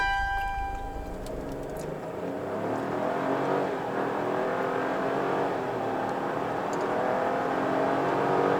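A 2024 Chevrolet Trailblazer RS AWD, in front-wheel drive, revs up and pulls away from a standstill in a 0–100 km/h run, building into a steady loud roar of acceleration with no one speaking.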